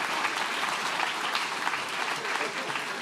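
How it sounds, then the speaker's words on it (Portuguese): A church congregation applauds, giving dense, steady clapping that fills the space evenly throughout at a moderate level, with no voice standing out. "Irmãos, vamos aplaudir a Deus pela vida dele."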